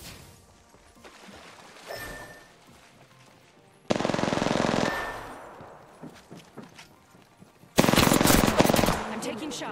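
Automatic gunfire in the Apex Legends video game, with bursts of rapid shots that come in waves, some loud and close and others quieter, plus game sounds and some talk.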